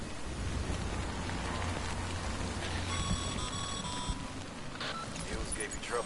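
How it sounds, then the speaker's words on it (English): Steady, dense rainfall fills the scene in the video game Death Stranding, a continuous wash of drops with a few faint electronic tones partway through and a voice talking over it. "Good thing it was raining."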